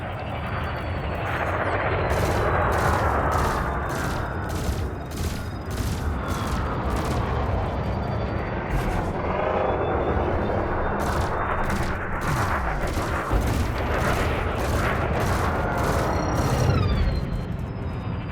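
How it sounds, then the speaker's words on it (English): Burst laser and multi-cannon fire from a spaceship in the game Elite Dangerous, a dense, continuous barrage of rapid sharp shots layered over a loud engine roar, with repeated bright pulsed bursts throughout. "your burst laser is a thermal weapon, which excels at stripping away a target's shields"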